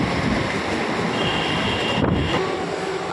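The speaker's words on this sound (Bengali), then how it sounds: "আর ট্রেনটা কী স্পিডে চলেছে দেখতেই পাচ্ছেন, ট্রেনটা কী স্পিডে চলেছে।" Interior of a nearly empty suburban train running at speed between Sheoraphuli and Bally, a steady loud broadband rumble of wheels and rattling carriage noise with wind roar, continuous throughout with no talk.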